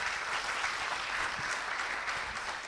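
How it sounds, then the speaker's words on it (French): Audience at a pharmacy training conference giving loud sustained applause, a dense continuous wash of clapping filling the room. "Il faut l'applaudir très fort."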